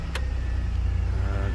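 A service vehicle's engine idles loud and close with a steady low rumble, a brief sharp click near the start, no talk.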